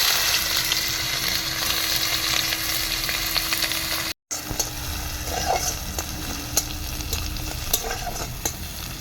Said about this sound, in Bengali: কেটে রাখা পেঁয়াজ দিয়ে দেবো।